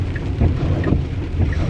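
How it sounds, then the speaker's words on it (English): Heavy rain drums steadily on a Tesla while it drives, a loud, dense patter with low rumbling underneath across the short stretch, no voices. "Yeah, it's raining pretty good out here."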